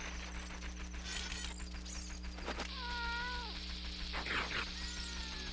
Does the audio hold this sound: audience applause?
no